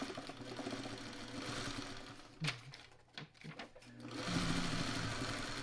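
Sewing machine stitching quilt blocks together in short bursts of fast, even whirring, with a brief pause and a few clicks in the middle, moderately close and quiet with no speech.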